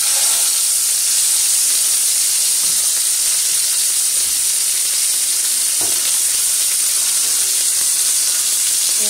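Steak sizzles steadily in a hot pan just after being flipped, a dense continuous hiss with faint crackles and an occasional soft scrape, close and loud with no talking.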